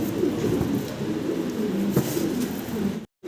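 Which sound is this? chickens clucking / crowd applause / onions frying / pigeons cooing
pigeons cooing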